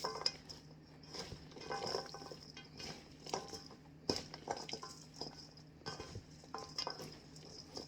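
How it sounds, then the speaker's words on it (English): Garlic and carrots being mixed into dandelion kimchi outdoors, with scattered clinks of utensils against a bowl and soft rustling stirs at close range, no talking. "now we're gonna add the garlic and the carrots. And we'll mix that in."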